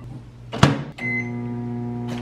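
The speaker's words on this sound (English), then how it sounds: "We are gonna put it in the microwave for 60 seconds" A microwave oven heating a chocolate chip mug cake runs with a steady, loud hum after a thump and a click, continuing without talk.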